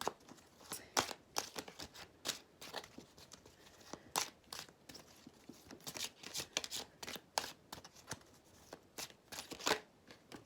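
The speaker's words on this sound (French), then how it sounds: "Allez, on va prendre une petite carte." Tarot cards are shuffled and drawn in a quiet room: a series of crisp, close flicks, slaps and riffles come in irregular bursts, with no talking.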